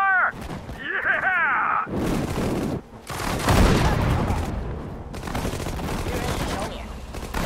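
Tank and infantry battle in Sudden Strike 4 at Myitkyina, with loud bursts of rapid machine-gun fire and heavy booms in dense succession, a short voice callout near the start.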